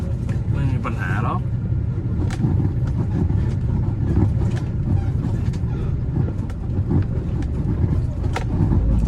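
A truck crawls in first gear over a rough, freshly cut quarry road, with a steady deep engine rumble, rattling, knocking and creaking from the body, and someone talking over it.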